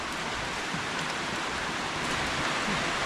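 Rain falls steadily outdoors on a farm, a dense even hiss of drops on surfaces filling the whole clip without pause.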